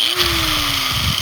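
Power tool cutting a length of threaded all-thread rod to size, a brief loud buzzing grind with a steady pitched whine, close and alone.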